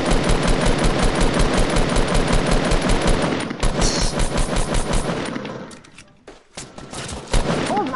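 Rapid automatic gunfire in a PS4 shooter video game, loud fast repeated bursts that run steadily, thin out and break into a few scattered shots near the end.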